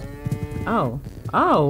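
A cow in the farming video game Quiet Farm lets out two drawn-out moos, loud and close, the second swelling higher; someone briefly speaks just before them.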